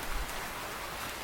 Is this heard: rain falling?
yes